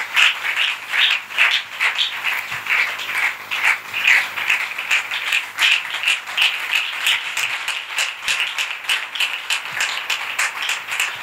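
A church congregation applauds steadily for several seconds, a dense, even wash of many hands clapping, rhythmic in places and moderately close, with no talk on top.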